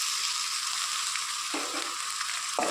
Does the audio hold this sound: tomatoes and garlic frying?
yes